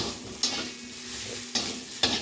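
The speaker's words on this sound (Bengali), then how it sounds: "ফুলকপিটা দিয়ে নেড়ে চেড়ে সুন্দর করে" Cauliflower florets are tossed and fried in a pan, a constant close sizzle punctuated by three distinct spatula scrapes.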